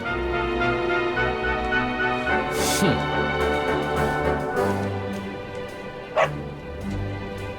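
A dog barks and yips repeatedly in the Dragon Quest XI video game, short sharp calls over busy game music and effects.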